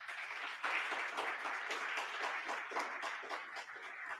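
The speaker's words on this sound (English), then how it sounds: "people are clapping if you can't hear it at home" Audience clapping at an annual meeting, a steady even wash of applause lasting a few seconds, distant and soft with no voices over it.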